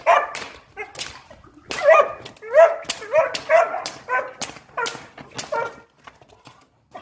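A dog barks repeatedly at close range, sharp yips and bow-wows in irregular bursts, trailing off into softer whimpers.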